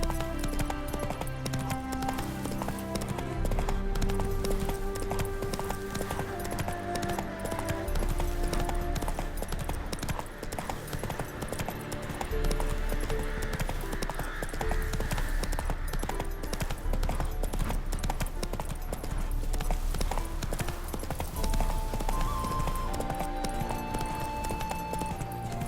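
Horse Roach galloping in The Witcher 3: Wild Hunt video game, with continuous rapid hoofbeats beneath a dense bed of game music and ambience, steady and moderately loud for the whole stretch.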